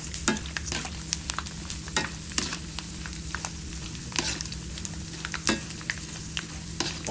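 Continuous crackling and popping of pork rinds frying in hot oil in a wok, with scattered sharp pops and the scraping of stirring throughout, loud and close.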